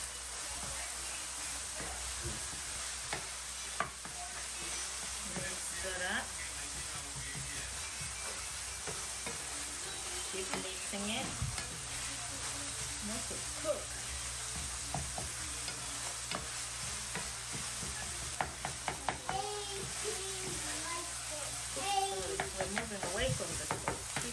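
Samosa filling with hot peppers stirred and mixed in a hot pan, a continuous sizzle with scraping and clattering utensil sounds, while a voice talks now and then.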